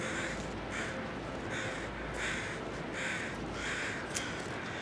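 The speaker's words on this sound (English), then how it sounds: "Birds everywhere, chat." Several crows caw in rhythmic, repeated bursts over a wolf carcass in a survival video game, loud and close above a steady windy background hiss, with no speech.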